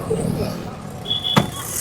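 A car door slams shut once with a sharp thud partway through, near and brief, against low idling background noise while a passenger gets settled in a taxi.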